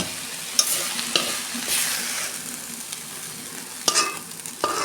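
Cooked jute leaf greens are scraped and poured out of a pan, giving a continuous soft sizzle with scattered sharp clicks and scrapes of a spatula against the metal, close and fairly loud, with no talking.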